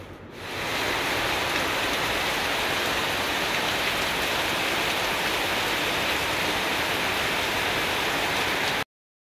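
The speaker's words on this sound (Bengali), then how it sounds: "প্রচণ্ড জোরে বৃষ্টি হচ্ছে।" Heavy morning rain pours down in a dense, steady roar that sets in after a brief quiet start and keeps up without a break until it cuts off abruptly, with no voices.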